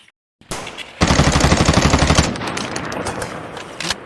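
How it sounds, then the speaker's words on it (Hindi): Loud rapid gunfire close by, starting with a burst and then a dense stretch of machine-gun-like shots with blasts, tapering into a rumbling tail with scattered reports. "गोला बारूद की आवाज आ रहा है, बंदूक बंदूक के बम है"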